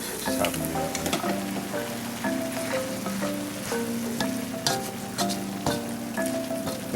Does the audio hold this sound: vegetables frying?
yes